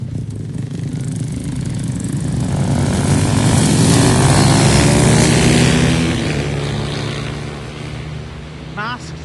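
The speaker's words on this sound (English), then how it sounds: "What's this noisy vehicle coming? Let's just watch and see. Oh, it's motorbikes." Motorbikes ride past on a street in Northfield, a loud engine drone that swells as they pass close and then fades away.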